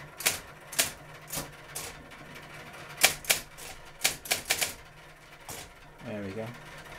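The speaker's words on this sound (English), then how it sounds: "So sort of type now again, now into red." Typing on a Hermes Model 505 electric typewriter, a string of sharp, close key strikes in an uneven rhythm, ending with a brief mechanical whir, with no talk.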